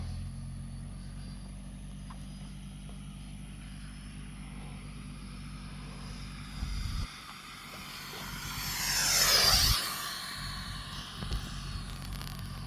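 A Freewing Motion RC F16 V2 electric jet on 8S power, flown at full throttle, makes a steady whine that swells to a loud, rising-then-falling roar as it passes close by near the end, with a continuous low rumble under the earlier part.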